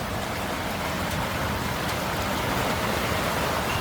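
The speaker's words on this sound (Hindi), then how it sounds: "बारिश बहुत तेज हो रही है।" Heavy rain falls in a steady, dense wash of broadband hiss, constant and fairly loud throughout with no voices.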